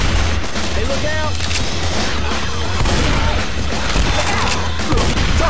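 Dense gunfire rattles continuously in Left 4 Dead 2 as survivors shoot at zombies, loud and chaotic with overlapping shots, thuds and game noise, with a voice briefly heard amid the din.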